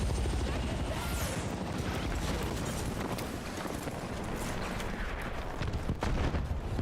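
Helicopter in the video game Battlefield 6, a loud steady rotor roar filling the scene alongside bursts of gunfire and explosions, with game noise dense throughout.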